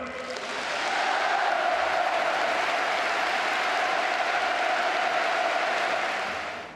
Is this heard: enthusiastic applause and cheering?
yes